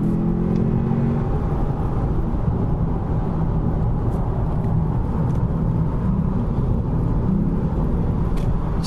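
A Lexus car accelerating as traffic opens up, heard from inside as a steady, loud engine drone and road rumble throughout, with no talk.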